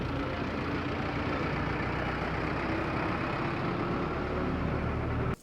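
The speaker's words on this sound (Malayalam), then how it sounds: "ഒരു ട്രാക്ടർ വരുന്ന ലോഡ് കണ്ടോ?" Steady, loud engine drone of a loaded tractor, a continuous low rumble that holds constant before cutting off abruptly near the end; no speech.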